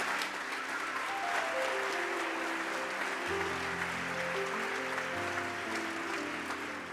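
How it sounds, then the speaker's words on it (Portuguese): A church congregation applauds during a Portuguese-language sermon. The clapping is steady and sustained, with held organ or keyboard chords playing beneath it. "Você pode aplaudir o Senhor?"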